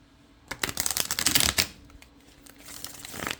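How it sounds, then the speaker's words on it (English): A deck of cards is riffle-shuffled up close, a quick rippling flutter followed by a softer second shuffle. "So let's just give this a good shuffle."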